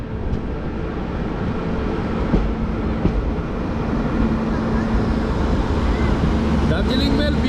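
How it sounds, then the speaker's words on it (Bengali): Darjeeling Mail train hauled by a WAP-7 electric locomotive arriving at a Kolkata station, a steady loud rumble of rolling stock with faint horn tones and station bustle, voices murmuring underneath. "এই হচ্ছে আমাদের ওয়াপ সেভেন লোকোমোটিভ এই হচ্ছে দার্জিলিং মেল"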